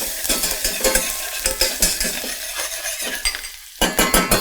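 Onion and garlic fry in a hot saucepan with a loud, bright sizzle, punctuated by rhythmic scraping and clinking of a utensil stirring against the pan.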